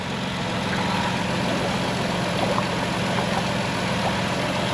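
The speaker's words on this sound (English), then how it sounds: "down there the compressor is running" A high-mileage car engine idles steadily with its air conditioning compressor running, a constant close hum and whine that holds even throughout, with no talk.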